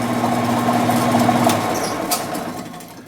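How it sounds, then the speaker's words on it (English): A bandsaw motor runs steadily with a constant hum and faint whirring, then winds down toward the end. "So with a bandsaw, the blade just keeps going."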